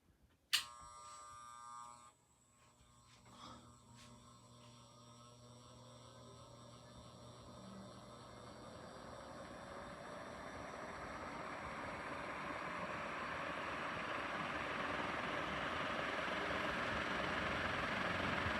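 An Envirofan 136F industrial ceiling fan motor hums with a bright tonal whine after a click at startup. The sound then builds into a steadily louder, broad whooshing drone of air and motor.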